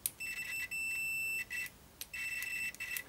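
A UNI-T UT81B scopemeter in continuity mode emits high electronic beeps that stutter and break up scratchily, with a few sustained tones interrupted by gaps and short bursts.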